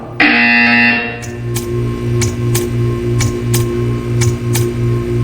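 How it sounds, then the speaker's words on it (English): A buzzer in the video game Portal 2 sounds in a loud, sustained tone at the start, then gives way to a steady hum with a rhythmic series of sharp ticking clicks repeating about every half second. "You will hear a buzzer. When you hear the buzzer, stare at the art."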